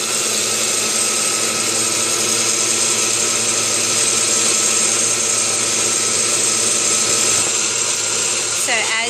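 A blender runs steadily, whirring spirulina seeds with water into a creamy milk at medium speed, a constant loud motor drone throughout with a slight change near the end.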